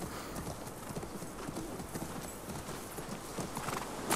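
In The Last of Us Part II video game, rapid horse hoofbeats clip-clop steadily over a dense, noisy background, with a brief whinny rising near the end; no clear talking.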